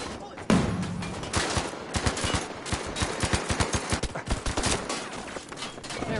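Dense automatic gunfire fills a multiplayer shooter match: rapid bursts and overlapping rifle shots rattle on continuously, loud and close, with overlapping distant fire and occasional faint voices underneath.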